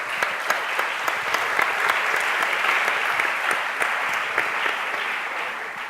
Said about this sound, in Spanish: la mejor manera que tenemos de darles paso es un aplauso